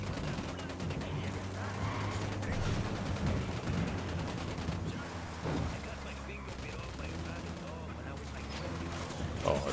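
Enemy gunfire in the open-world shooter Ghost Recon Wildlands, with rattling bursts and scattered shots over a steady vehicle-like rumble, while voices talk throughout.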